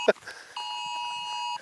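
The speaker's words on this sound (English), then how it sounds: "Another alarm." An alarm sounds in a remote Romanian mountain village: a steady electronic tone rings continuously for about a second after a brief knock or voice at the start, fairly loud and clear.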